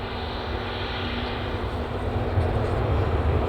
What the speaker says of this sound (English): just coming into land is a Ryanair